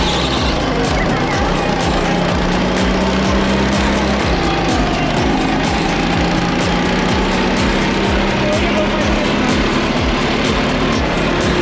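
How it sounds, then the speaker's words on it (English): A go-kart engine drones loudly and continuously on a two-person ride, its pitch shifting slightly as it runs, with rapid pulsing and wind noise throughout. "we're going for a dual ride go-kart"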